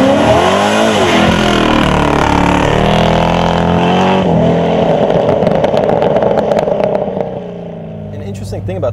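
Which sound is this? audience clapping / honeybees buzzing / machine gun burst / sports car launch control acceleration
sports car launch control acceleration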